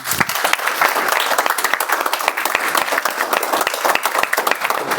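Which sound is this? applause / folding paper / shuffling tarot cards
applause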